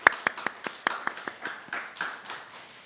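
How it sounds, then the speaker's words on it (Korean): A small church congregation claps to welcome a visiting family, a sparse run of distinct, fairly quick handclaps that soon blur into a brief patter and fade within a few seconds. "박수로 환영하겠습니다."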